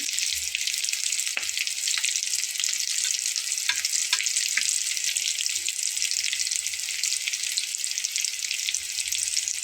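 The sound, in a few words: potato flour snacks frying in oil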